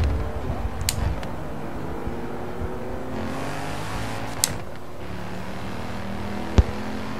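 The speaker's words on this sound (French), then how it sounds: "Il y en a qui s'amuse à faire du drift derrière." Cars drifting in the Forza Horizon 3 racing game, a steady engine drone with layered revving tones and a couple of sharp clicks, loud and continuous with no talking.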